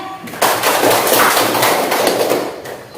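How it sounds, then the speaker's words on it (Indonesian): A classroom of children bursts into dense, rapid applause together, a loud close crackle of many hands that swells for about two seconds and then tapers off. "Tepuk tangan semuanya."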